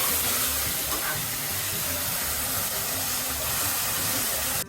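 Jute leaf pachon with bay leaf poured into hot oil, giving a loud, steady hiss of sizzling that holds at full strength the whole time.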